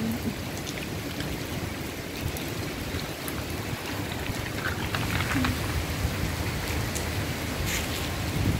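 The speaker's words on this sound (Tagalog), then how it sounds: "Lakas yung ulan." Heavy rain falls near Tanjung Pagar Cantonment Tower, a steady wash of dense hiss with scattered brighter drop impacts, constant in level throughout with no voices.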